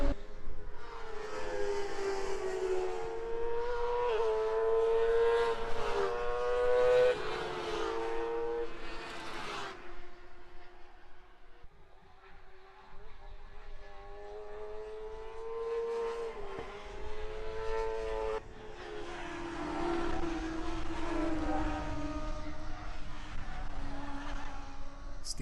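Race cars at a Raceweek motorsport event pass below the commentary position, engines rising and falling in loud drawn-out sweeps with a brief lull midway, under continuous commentary.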